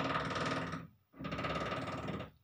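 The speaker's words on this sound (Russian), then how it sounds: "продолжаются какие-то, в кавычках, ремонтные работы. Слышите, да?" Renovation noise comes through the wall from a neighbouring flat in two long, loud bursts of harsh tool grinding or hammering, separated by a brief pause, with no talk.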